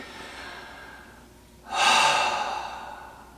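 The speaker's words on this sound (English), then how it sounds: "expanding the belly first, and then a nice soft open exhale" A soft, open exhale in a breathwork exercise, with quiet breathing at first, then a breathy release of air that rises suddenly and fades slowly, close and alone.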